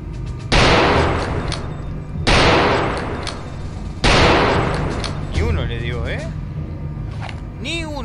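Gunfire in the video game Return to Castle Wolfenstein: three loud, sharp shots spaced a couple of seconds apart, each with a decaying tail, followed by faint crackling effects and someone talking.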